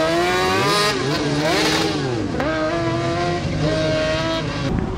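Race cars at a UTA Racing parking-lot autocross rev hard and shift, engine pitch rising and falling as they accelerate close by, loud and continuous with no talking.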